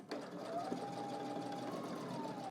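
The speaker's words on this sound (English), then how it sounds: "Now let's head to the machine and stitch this down." A sewing machine stitching down a jacket pocket from Simplicity pattern 3168, running in one continuous, even whirring burr from start to finish, close and steady.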